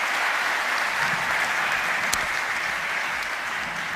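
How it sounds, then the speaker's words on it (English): Audience at the WRO International Final 2022 applauding the orchestra Ensemble Momentum, with a dense, sustained roar of clapping from a large crowd that holds steady and loud throughout. "a big round of applause for Ensemble Momentum, ladies and gentlemen"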